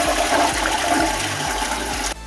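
A toilet flushes close by in a steady rushing gush of water with a faint rhythmic gurgle underneath, ending abruptly; no voices.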